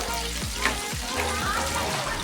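Chicken pieces deep frying in oil over a medium flame for KFC-style chicken, a steady close sizzle and crackle with faint bubbling throughout, no voices.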